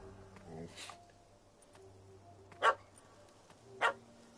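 A dog in Witcher 3 barks at a cat treed out of reach, giving a few sharp, separate barks spaced over several seconds against quiet ambient background.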